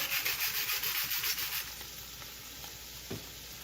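Onions sautéing in olive oil and meat fat in a pot, a rough rhythmic scraping of stirring for the first couple of seconds over a steady sizzle that continues more quietly afterward, close and without talking.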